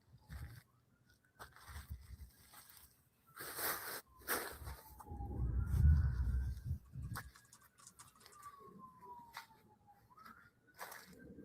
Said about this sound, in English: It's all those sirens.